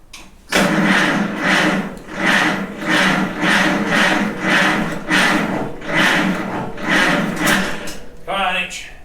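Farmall H tractor engine with choke set cranking over in a rhythmic series of strong, loud pulses for several seconds, then a brief sputter near the end.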